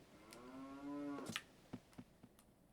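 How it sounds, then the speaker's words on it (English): Cow from The Legend of Zelda: Ocarina of Time gives a single drawn-out moo, followed by a few soft tapping footstep-like clicks. "it's just a cow with a heart piece here"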